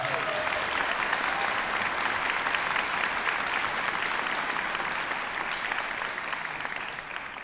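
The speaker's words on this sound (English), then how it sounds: "So please give them another round of applause" Large audience applauding at a choir festival grand finale concert, a continuous, full roar of clapping that holds steady and then eases slightly toward the end.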